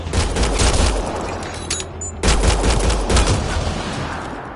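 Loud, dense bursts of rapid gunfire from the video game Mass Effect, a continuous fusillade with a brief dip midway before the shooting resumes just as hard.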